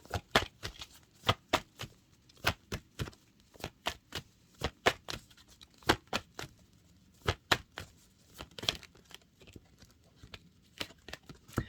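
Tarot cards are shuffled in a long run of sharp, close riffling snaps and slaps with short gaps between bursts, fairly quiet and with no talking.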